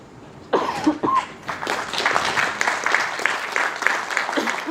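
Applause from a seated audience for instructors at the inauguration of an AHA training centre starts abruptly and carries on at moderate loudness, with a few coughs mixed in.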